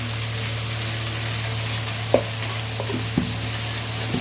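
Teasel gourd fries in oil in a pan with an even, steady sizzle under a low hum, broken by a few light clicks from a spoon against the pan, and no one speaking.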